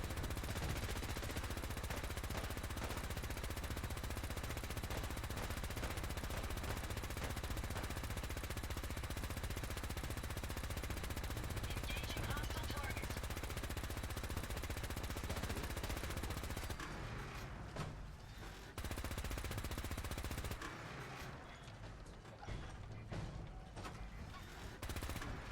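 Energy weapons fire nonstop in Fallout 4, a dense, continuous stream of rapid shots kept up as suppressive fire, loud and unbroken for most of the stretch before briefly thinning near the end.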